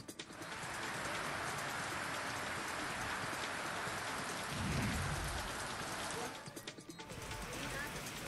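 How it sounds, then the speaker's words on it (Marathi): Steady, heavy rain pours down on surfaces outdoors during monsoon weather, a dense, constant hiss that dips briefly near the end, with a short low rumble like distant thunder midway. "सर्व दूर आपण जर बघितलं तर पाऊस सुरू आहे"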